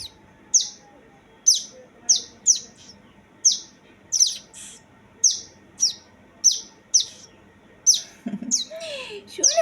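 Young pet birds call with a string of sharp, close chirps at a fairly regular pace, ending in a brief flurry of rustling and softer squeaks.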